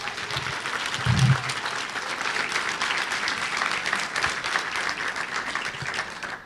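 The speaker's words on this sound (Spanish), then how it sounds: "Denle un aplauso a nuestro Dios." Church congregation at Iglesia Vida Eterna applauding during a sermon, a steady wash of many hands clapping at moderate level throughout, with a brief low thump near the start.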